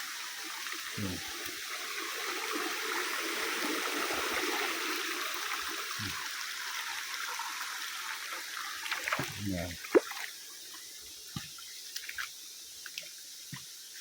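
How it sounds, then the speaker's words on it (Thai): A small waterfall stream runs beside a mountain trail, a soft continuous rush of water with some close crunching footsteps and scuffs near the end. "ผ่านน้ำตก"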